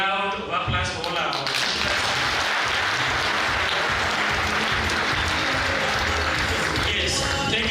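A seated audience at a public lecture on the Kenyan government's response to external shocks claps in a steady, dense round of applause lasting throughout, loud and close, with speech mixed in underneath.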